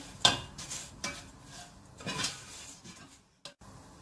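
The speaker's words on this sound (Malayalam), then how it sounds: "ഇത് നന്നായിട്ടൊന്ന് ഇളക്കാം" Kerala-style chicken roast being stirred in a pan, a few scraping, clattering strokes of a spoon against the metal spaced about a second apart over a faint sizzle, quiet and close, with a brief pause near the end.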